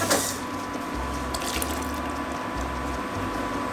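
Water poured into a pan while cooking mojo pork chops: a steady rushing pour that runs for several seconds over a low, pulsing background hum, with no voices.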